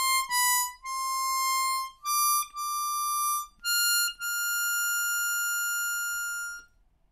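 A harmonica plays a phrase from a theme, a handful of clear, sustained reedy notes with brief breaks, ending on a long held tone, solo and close with no talking.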